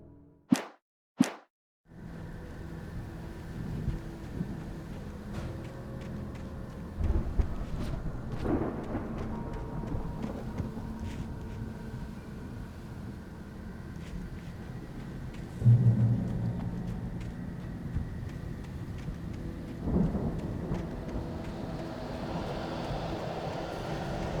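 Steady rain pours through a stormy night in the Alan Wake video game, with sharp close thunder cracks at the start and deeper rumbles rolling in later, no voices over the wash of downpour.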